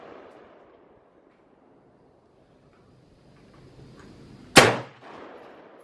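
A single loud, sharp report of AR-style rifle fire rings out at a gun range, sounding near and then decaying, after a stretch of quiet background.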